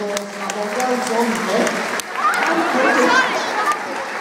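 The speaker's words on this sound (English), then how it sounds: "Give it a good big round of applause." An audience at a sea lion show applauds in a broad, sustained wash of clapping, with chatter and voices mixed in throughout.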